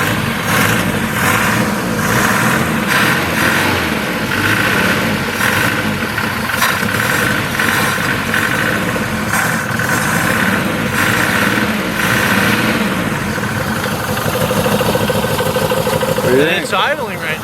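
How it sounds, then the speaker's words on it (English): A barn-find BMW 2002 engine idles loudly and unevenly close up, a continuous rough mechanical drone with faint pulsing throughout, briefly joined by a higher whine near the end. "And it's idling right now, so that's kind of cool."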